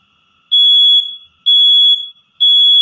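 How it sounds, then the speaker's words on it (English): A smoke detector fire alarm shrills in three loud, piercing beeps, each about half a second to a second long and evenly spaced, with short silent gaps between them. "That's them setting off the fire alarm again."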